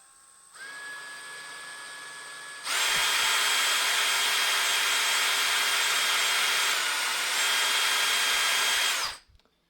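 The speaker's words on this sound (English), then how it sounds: "we're going to let the drill bit do as much of the work as we can. Just kind of gently drill these in." Power drill boring tuner holes in a wooden guitar neck for a super strat, a high steady whine that spins up briefly, then a long loud continuous bite into the wood before stopping, close and alone.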